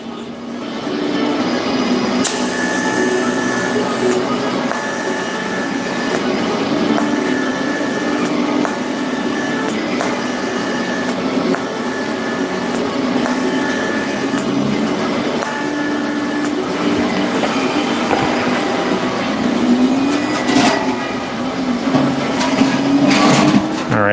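Welding on a metal back section produces a continuous loud buzzing hiss with crackle that holds steady for over twenty seconds, close by and uninterrupted.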